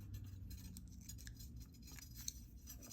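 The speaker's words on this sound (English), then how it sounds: "We have to cut this wire first." Jewelry wire snipped with cutters for a twisted wire-wrap cross, a few small sharp clicks and light metallic ticks, close and quiet against a soft background hum.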